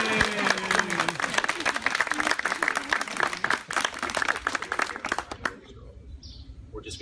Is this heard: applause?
yes